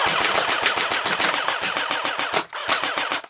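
An airsoft G36 rifle fires full auto in rapid, loud bursts of sharp mechanical cracks, one long string with a short break near the end, no talking.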